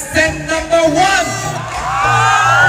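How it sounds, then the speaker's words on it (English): Audience at a youth festival pageant evening yelling and whooping for a contestant, a loud, close crowd roar with overlapping shouts and cheers building steadily across the moment. "Can we have a big round of applause for contestant number 1?"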